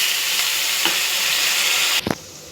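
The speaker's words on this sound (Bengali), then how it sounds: "আলুটাকে লাল লাল করে কষে নেবো" Boiled potatoes fry with spices in a pan, a loud even sizzle for about two seconds that suddenly drops away after a short clatter.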